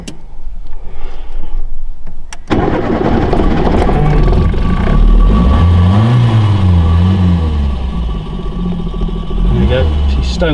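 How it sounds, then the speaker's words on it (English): A 1977 left-hand-drive Ford Fiesta Mk1 starts from stone cold: a brief cranking burst, then the small engine catches and settles into a loud, steady idle with a few rising revs, heard close up. "get in and start her up."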